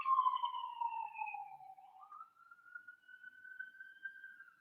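A distant emergency vehicle siren passes by, its wailing tone sliding slowly downward and then rising again into a steady held note, faint and alone against otherwise quiet surroundings.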